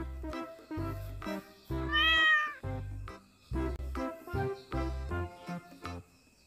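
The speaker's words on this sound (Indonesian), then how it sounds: "ternyata di dalamnya ini ada kucing" A grey-and-white cat meows repeatedly, several clear, drawn-out calls with short pauses between them, close by over a faint musical backdrop.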